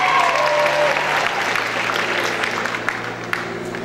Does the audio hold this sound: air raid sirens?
no